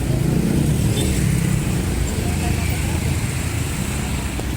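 Busy street traffic with cars and motorcycles rumbling past at close range, a continuous engine drone with faint voices mixed in.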